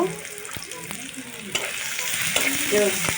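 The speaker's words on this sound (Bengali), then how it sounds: "সামান্য পরিমাণ তেল দিয়ে দিলাম পেঁয়াজ পেঁয়াজটা হালকা করে একটু ভেজে নেব" Onion frying lightly in a small amount of oil in a pan, a steady close sizzle with occasional stirring scrapes and clinks throughout; no talking.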